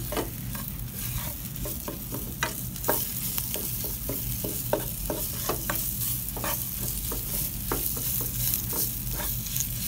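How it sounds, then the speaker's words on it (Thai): Red curry paste fries in oil for a chicken and bamboo shoot curry, with a steady close sizzle broken by irregular scraping and clacking stirs of a spoon against the pan. "ผัดพริกแกงให้หอมค่ะ"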